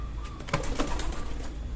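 Pigeons coo softly in a steady, noisy background, with a couple of faint throaty calls rising briefly above a constant low rumble.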